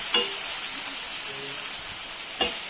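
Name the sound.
onions sautéing in a pan for egg curry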